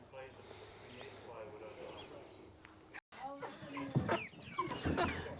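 Chickens cluck and squawk nearby in short, irregular bursts, growing louder after a brief gap, with some background noise.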